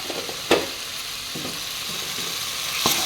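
Gongura leaves sauté in a pan with a steady hiss of frying, broken by a few sharp scrapes and knocks of a spatula against the metal.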